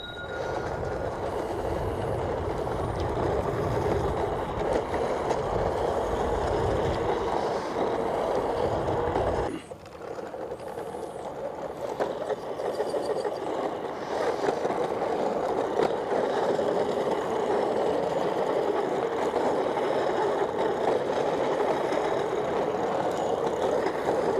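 A Leiftech V1 eFoil board's motor runs rough on the water, a loud continuous rattling, grinding drone with a dense wash of noise that briefly dips midway before resuming as harsh as before.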